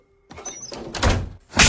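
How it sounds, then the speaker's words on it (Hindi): A door is shut indoors, with a soft slide and a couple of thuds ending in a firmer closing knock. "अंदर ही रहूंगी दरवाजा बंद करके"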